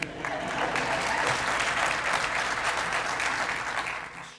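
Audience at the George West centennial celebration in Texas applauding warmly, a dense, steady wash of clapping that holds for several seconds and then fades out.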